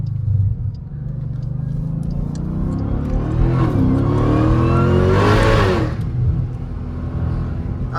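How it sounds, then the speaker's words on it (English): A 1,100 hp Jeep Trackhawk accelerates hard from inside the cabin, its engine rumble and supercharger whine climbing in pitch to a loud peak, then easing back to a steady drone. "I know y'all hear that engine."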